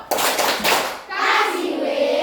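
Children in a classroom clap their hands in a quick burst, several claps in rapid succession, followed by chanting voices.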